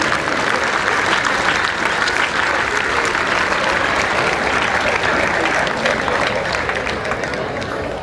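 Sustained applause from a large crowd, dense steady clapping at full volume that fades slightly toward the end.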